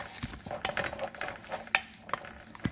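A spoon stirs Somali rooti batter mixed with red chili pepper in a bowl, giving soft scraping and clinking strokes, close and fairly quiet, with a few sharper taps against the side.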